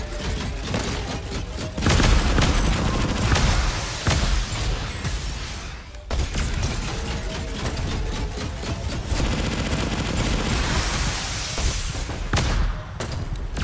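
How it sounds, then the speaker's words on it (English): Rocket launcher shots and explosions in a multiplayer shooter game, with repeated sharp bursts and loud booms landing close together over a rumbling, busy background of rapid gunfire. "Here, I'm gonna rocket really quick."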